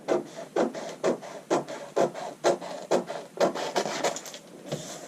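Scissors cut through paper for an under collar pattern, a steady run of close, rhythmic snipping and rustling about twice a second with no talking.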